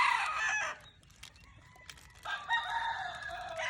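Gamefowl chickens at the Edlum Game Farm, a rooster crowing close by in two bursts with clucking and smaller fowl calls in between.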